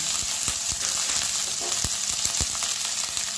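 Garlic, ginger and green chili paste sizzling in hot oil with asafoetida, a steady close frying hiss with occasional sharp pops and spatters.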